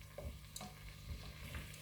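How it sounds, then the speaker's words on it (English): Tomato risotto sizzles and crackles steadily in a pan as it is stirred, with soft scraping strokes repeating through the frying noise and no voices. "So as you can see, it's all sizzling away"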